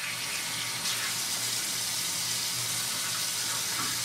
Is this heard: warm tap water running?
yes